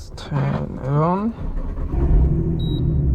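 A Nissan 370Z Nismo with a Valvetronic exhaust starts up, its engine catching and settling into a steady, close rumble while a person talks over it.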